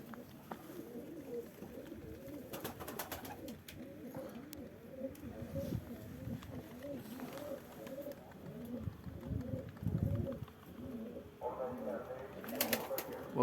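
Released tepe bozu pigeons coo repeatedly outdoors in soft rounded calls with a few chirps, while someone talks intermittently nearby.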